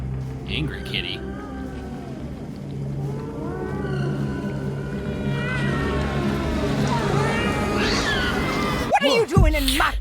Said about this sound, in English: Angry kitty.